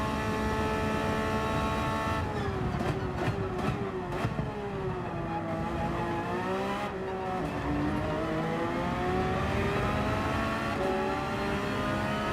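A Citroen race car in a racing video game at Suzuka accelerates hard, its engine a steady, loud drone whose revs climb and dip, with a few quick clicks early on.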